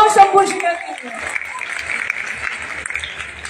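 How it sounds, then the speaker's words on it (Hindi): A poetry-festival audience at a kavi sammelan bursts into applause after a brief announcing voice at the start, with the dense clapping then carrying steadily to the end. "जोरदार तालियां हो शंभू शिखर के लिए"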